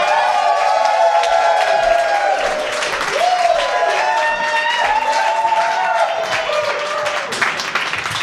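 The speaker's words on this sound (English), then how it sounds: "Guys, start clapping right now for Billy Willig." A stand-up comedy crowd applauds and cheers for a comedian, sustained dense clapping with whoops filling the room for several seconds, a voice faintly mixed in.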